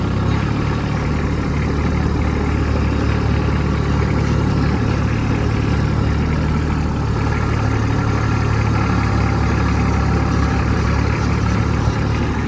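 A Kubota B2601 compact tractor engine idles steadily and continuously close by in snowy conditions, with a low constant rumble and no speech.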